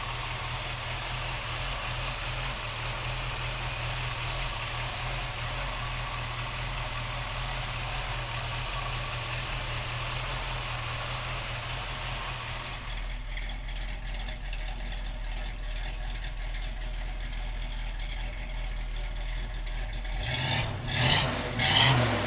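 The 350 V8 in a 1972 Chevrolet pickup runs at a steady, close idle. Its tone shifts partway through, and a few rougher bumps come near the end.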